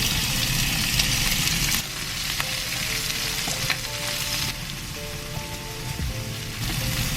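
Bacon, jalapenos and onions sizzle and crackle steadily in avocado oil in a pan, a close, continuous frying hiss with occasional pops and utensil stirring.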